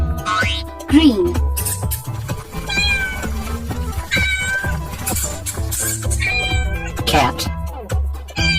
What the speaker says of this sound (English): Cat.